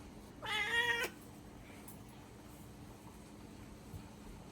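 A cat walking through a kitchen set gives one clear, drawn-out meow near the start, then only a quiet room hum follows.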